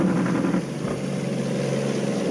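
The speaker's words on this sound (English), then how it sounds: "This truck sounds pretty good." A truck engine runs steadily at close range, a low continuous rumble with a faint droning tone throughout and no voices.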